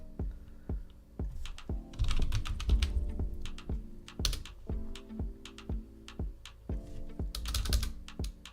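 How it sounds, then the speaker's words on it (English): Keystrokes clatter on a computer keyboard in quick uneven bursts with short pauses. A steady tonal background hums underneath, and no one speaks. "I'm typing in the wrong spot"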